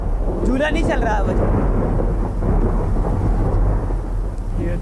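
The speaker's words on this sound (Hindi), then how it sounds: "बारिश हो रही है।" Heavy rain pours steadily while a long rumble of thunder rolls through, loud and close, with a brief voice near the start.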